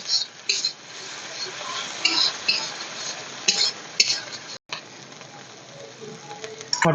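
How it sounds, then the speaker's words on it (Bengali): Spice masala being stir-fried in oil for dum aloo, with a steady broadband sizzle and repeated scraping and clinking of a spoon against the pan, nearby and moderately loud, with a brief dropout partway through. "আর এটা ততক্ষণ কষাতে থাকবো যতক্ষণ তেল না বেরিয়ে বেরিয়ে আসে"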